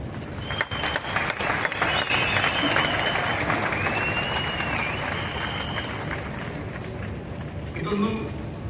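An audience at a marketing company's motivational stage event breaks into dense, sustained applause that fills the room at an even level for several seconds, with a voice heard through it before the clapping fades near the end.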